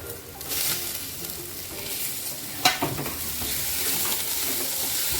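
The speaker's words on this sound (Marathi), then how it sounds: "आता यामध्येच आपण टोमॅटो घालूया" Tomatoes go into a pan of frying garlic and ginger for a dhaba-style sev bhaji, a steady loud sizzle with a brief sharp stirring clatter partway through.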